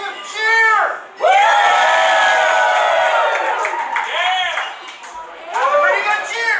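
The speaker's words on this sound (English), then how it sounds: "That's a pretty good cheer." A big room full of people lets out a loud, sustained cheer with whoops and shouts, surging, dipping briefly, then carrying on and swelling again near the end.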